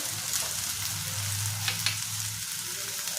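Eight to ten cashews tossed into a pan of hot oil with mild Byadgi chillies, a steady close sizzle and frying hiss throughout with a few faint stirring scrapes.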